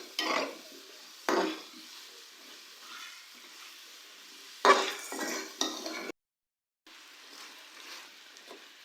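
A spoon scrapes and stirs potato, peas and carrot coated in spices in a pan. A few brief scrapes and clinks come through over a faint, quiet background, with a short silent gap near the end.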